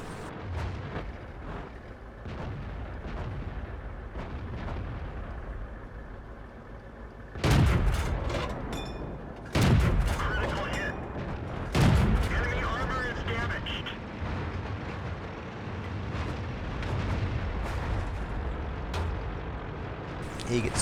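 World of Tanks battle on the Steppes map with tank cannon fire: three heavy booming shots ring out over a steady engine rumble, with someone narrating throughout.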